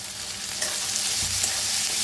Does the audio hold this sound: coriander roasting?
yes